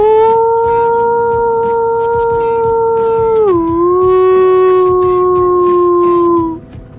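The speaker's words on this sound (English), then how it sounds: "Someone redeemed a howl." A long, loud dog-like howl sound effect triggered during a livestream, holding one steady tone for several seconds before dipping lower and trailing off near the end.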